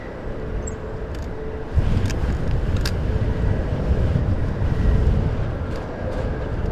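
Gusty wind buffets the microphone at Heathrow Airport, a continuous low rumbling rush that swells noticeably partway through, with a few faint sharp clicks and no talk.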